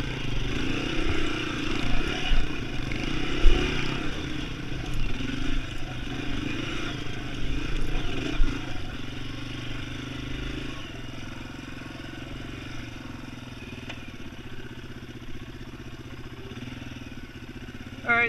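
A Yamaha TW200 trail motorcycle's engine revs as its rear wheel spins in deep sand at Sand Hollow, Utah, a loud, close, surging drone that fades to a lower steady idle partway through.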